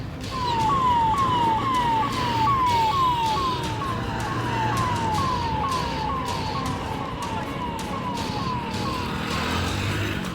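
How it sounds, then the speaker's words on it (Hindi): Fire engine sirens from several fire engines responding to a chemical factory fire wail in a rapid, repeating up-down pattern over heavy traffic rumble, loud and continuous throughout. "एक साथ कई गाड़ियां सायरन बजाते हुए मौके पर पहुंची"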